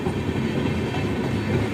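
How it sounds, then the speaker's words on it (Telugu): The Karnataka Sampark Kranti Express pulls out of Malkajgiri railway station, giving a steady low rumble of rolling wheels and carriages at moderate distance, continuous with no voices. "ఇప్పుడు ఈ రైలు వెళ్ళిపోయిందండి. ఇది స్టార్ట్ అయింది."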